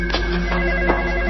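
A telephone rings with a steady electronic tone, loud and close, pulsing in short repeated bursts over a low hum, with no voices.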